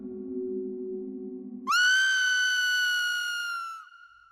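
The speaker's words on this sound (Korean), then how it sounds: "갑작스레 들려오는 비명소리에 식구들은 일시에 안방문을 쳐다보았다" A loud, high shrieking scream rings out alone for about two seconds after a low droning tone, serving as a sound effect in a Korean horror folktale narration and fading at the end.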